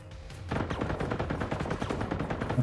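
Incendiary rounds fired in the video game Generation Zero, a rapid sustained burst of automatic gunfire that starts abruptly and keeps rattling, loud and close, with no talk over it.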